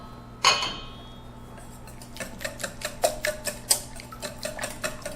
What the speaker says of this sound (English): you can just give it a quick whisk together